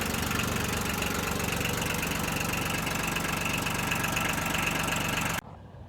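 A 1988 Yanmar tractor engine, back running after sitting six years, chugs steadily at close range with a loud, even mechanical rhythm for about five seconds before cutting off abruptly.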